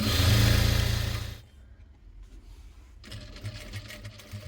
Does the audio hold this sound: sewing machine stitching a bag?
yes